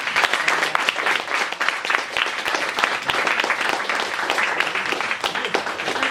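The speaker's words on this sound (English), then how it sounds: "Let's give them a huge round of applause." Sustained applause from an audience at a closing ceremony and medal event, dense crisp clapping that stays even and fairly close throughout with no talking.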